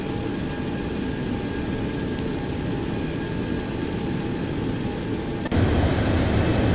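Engines of a FlyJSim 727-200 airliner in X-Plane 11 drone with a loud, constant roar and faint whine, then shift abruptly to a deeper, heavier rumble near the end.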